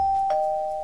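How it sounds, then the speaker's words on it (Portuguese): A doorbell sounds close and clear in a Brazilian home, a quick two-note ding-dong with the second tone held and fading. "Ah, mas toca a campainha, eu gosto muito dela."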